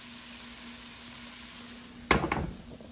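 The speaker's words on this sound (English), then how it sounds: "Hear that sizzle." A grilled cheese sandwich sizzles faintly and steadily in a pan, then a sharp scraping clatter of a spatula against the pan stands out near the end.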